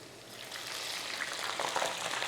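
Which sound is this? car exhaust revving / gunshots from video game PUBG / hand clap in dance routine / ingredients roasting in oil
ingredients roasting in oil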